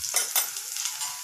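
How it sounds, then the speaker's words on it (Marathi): Ground spices (coriander powder, chili powder, turmeric and garam masala) sizzle in a hot oil tempering in a pan while being stirred, giving a soft, close crackle with a couple of scraping strokes near the start. "आता हे व्यवस्थित परतवून घेऊया आणि अर्धा मिनिट शिजू देऊया।"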